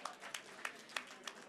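An audience applauds a finalist after a pitch at a startup competition grand finale, with quiet, scattered clapping and a few sharper claps standing out at a steady, modest level.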